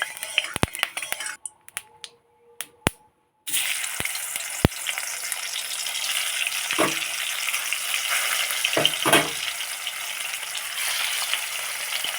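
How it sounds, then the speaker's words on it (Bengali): After a few sharp clicks and a near-silent pause, snakehead fish hits hot mustard oil in a kadai and a loud, continuous sizzle takes over, with occasional stirring scrapes. "কোড়া গরম হয়ে গেছে এবার কোড়াতে দিয়ে দেবো মাছ ভাজার জন্য সর্ষের তেল"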